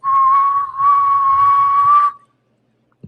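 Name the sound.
voice imitating a train whistle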